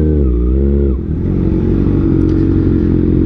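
A 2021 Kawasaki Ninja ZX-6R engine revs loudly up and back down near the microphone, then settles into a rough, rumbling idle with faint clatter, no speech.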